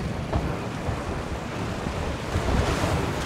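A cart drives through water in Zelda: Tears of the Kingdom, giving a steady rushing, splashing wash like surf and wind that stays loud and broadband throughout, swelling slightly near the end.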